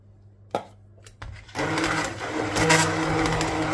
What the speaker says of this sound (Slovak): vybereš bobkový list a rozmixuješ to celé